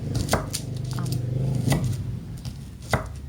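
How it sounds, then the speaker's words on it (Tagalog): Garlic being pounded and onion chopped in a home kitchen in the Philippines, with steady close knife and board knocks, three sharper strikes standing out over a low background hum. "nagpupukpuk ako ng bawang at naghiwa ng sibuyas"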